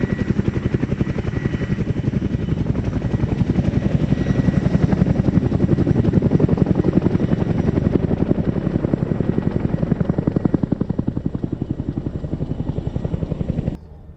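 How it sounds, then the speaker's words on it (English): Chinook twin-rotor helicopter performing a flying display at the RAF Cosford Air Show, its heavy rhythmic rotor thudding loud and continuous as it passes, swelling and then easing slightly before stopping abruptly. "the Chinook flying for you today"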